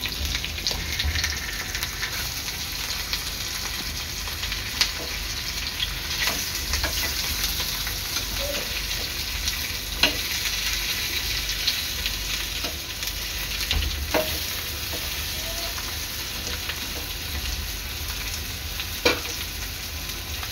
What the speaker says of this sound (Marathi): अशा प्रकारे मी आपली तुकड्या तळून घेणार आहे